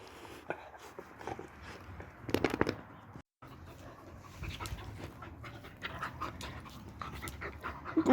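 A long-bodied dog pants steadily up close in the morning, quick rhythmic breaths with a brief pause midway, mostly alone with little talk.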